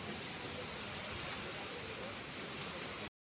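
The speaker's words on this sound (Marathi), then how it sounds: "पाऊस येत आहे" Heavy rain falling in Nagpur, a steady, dense hiss that fills the whole stretch without pause, then cuts off abruptly at the end.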